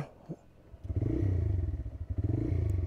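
A nearby TVS Raider 125 motorcycle engine starts up and runs with a throbbing, pulsing rumble that rises and falls as it revs.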